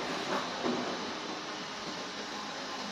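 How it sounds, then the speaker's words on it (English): An automatic two-head beer keg washing machine with a caustic tank and a hot water tank runs under test, giving a loud, steady broadband hiss and rush that holds unchanged throughout. "the beer keg washing machine under testing before a delivery."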